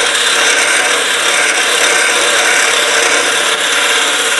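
A handled power carving tool hollows out wood with a loud, continuous rasping grind, steady and close throughout with no pauses.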